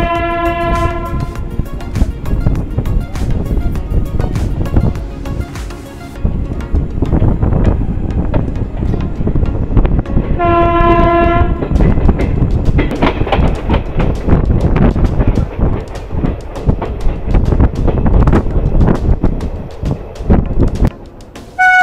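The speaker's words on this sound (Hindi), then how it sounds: "दोस्तों ट्रेन जो है अभी पहुंच चुकी है अपने सेकंड लास्ट हॉल्ट यानी कि अंबाला सिटी रेलवे स्टेशन पर।" Train horn blasts and rumbling rail noise as an express train pulls into Ambala City railway station, loud and close with wind buffeting the microphone and the horn sounding twice.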